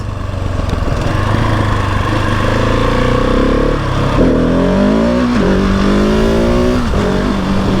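Motorcycle engine revving hard as the bike lifts into a power wheelie, a loud, close, steady drone with rising and falling pitch sweeps as the throttle is worked, with wind rush throughout and no talking.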